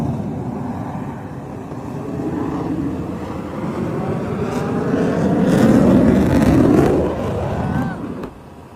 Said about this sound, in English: the plane is actually whirligigging